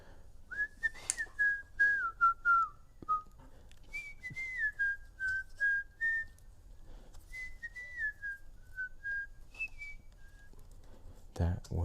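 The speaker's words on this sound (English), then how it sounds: "Somebody's whistling a tune from Robin Hood," Someone whistles a slightly out-of-tune melody from Disney's Robin Hood, a clear sustained line of rising and falling notes with short pauses, over quiet background clatter.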